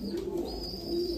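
Royal Teddy pigeons coo softly in a short low burst, faint and steady against a thin high hiss of background noise.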